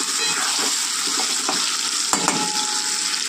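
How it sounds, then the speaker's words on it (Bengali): Onion frying lightly in a pan for mutton curry, a steady close sizzle throughout with a few soft stirring scrapes and clinks, no voices. "তো চলুন পেঁয়াজটা হালকা করে ভাজা হয়ে যাক"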